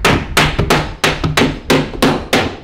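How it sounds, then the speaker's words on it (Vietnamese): Hammering nails into a wooden box: about eight loud, sharp blows in a steady rhythm, some followed by a quick lighter tap, close up with no talking. "Đóng đinh rồi."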